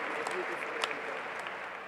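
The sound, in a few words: audience applause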